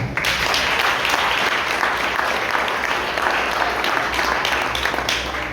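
A church congregation applauds during a Wednesday evening worship service in Betim, with dense, steady clapping that stays loud and even throughout and no voices over it.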